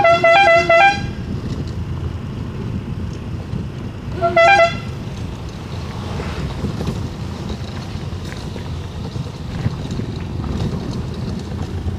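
An oncoming vehicle on the road from Pudukkottai to Chennai sounds its horn twice, a loud toot at the start and a shorter one a few seconds later, over steady wind and road rumble from a moving homemade bed car.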